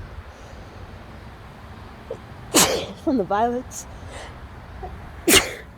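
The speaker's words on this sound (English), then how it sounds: "Don't mind me while I sneeze." A sudden sharp sneeze bursts out, followed by a few quiet spoken words, then a second sneeze near the end over faint background noise.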